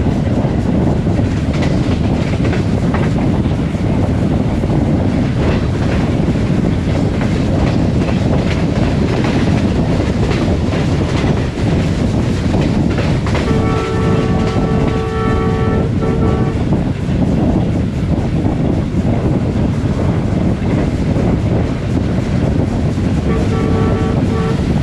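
The Pak Business Express, pulled by a Chinese-built locomotive, rushes through Jahania railway station at high speed with a loud, continuous roar of wheels on rails, rhythmic clatter and a brief horn sounding midway and again near the end.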